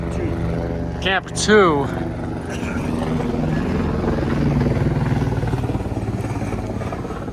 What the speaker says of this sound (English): where's that helicopter coming from?